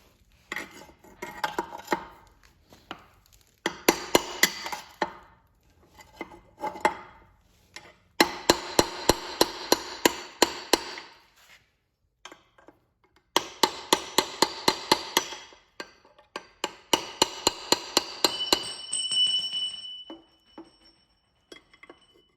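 A hammer repeatedly strikes metal, driving a bearing race out of the rear differential of a 1946 Willys Jeep CJ2A, in loud, ringing bursts of rapid blows separated by short pauses.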